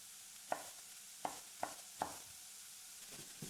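A spoon scrapes and taps against a pan four or five times, stirring garlic and onion, while a faint sizzle of frying runs underneath, quiet and close.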